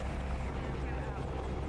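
An AH-64D Apache helicopter in the flight simulator DCS gives off a steady, dense rotor and turbine drone that holds at an even, moderate level without a break.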